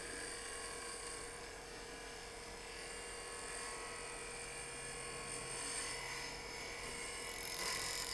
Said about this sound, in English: I'm going to go ahead and stop the lathe